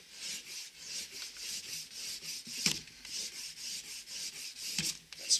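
A Mora knife blade is stropped on the rough side of an old leather belt: soft rhythmic rubbing strokes, close and fairly quiet, with a few sharper scrapes standing out, and no voices.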